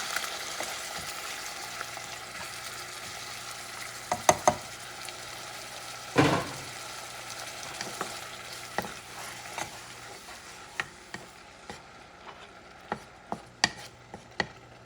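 Tomato sauce and a grated tomato go into a hot pot for a Puerto Rican pigeon pea stew, bringing a steady soft sizzle with scattered spoon clinks and stirring scrapes, one sharper splash midway.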